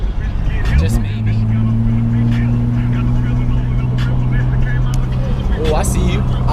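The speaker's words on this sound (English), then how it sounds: "a little drift skid over there" A car drifts and skids at a Central Florida Z Club meet, a 350Z among the cars, its engine holding a loud steady drone for several seconds with crowd chatter over it.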